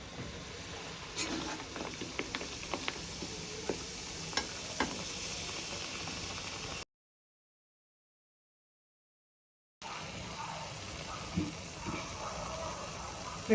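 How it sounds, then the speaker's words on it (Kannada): Kajjaya dough frying in hot oil, a steady, fairly faint sizzle with scattered pops and crackles, broken by a few seconds of complete silence before the frying resumes. "ಇವಾಗ ಎಣ್ಣೆ ಎಲ್ಲ ಒಂದೊಂದೇ ಬಿಟ್ಕೊಳ್ಳೋಣ"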